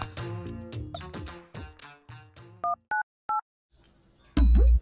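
Telephone keypad tones dial a call to an office: three short, separate beeps follow fading background music, and a louder sustained tone comes in at the end.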